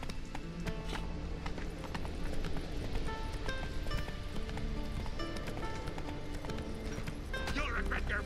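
Roach the horse gallops in the Witcher 3 video game, with steady clip-clop hoofbeats and an occasional whinny under a busy bed of music and game sounds, while a voice speaks over it.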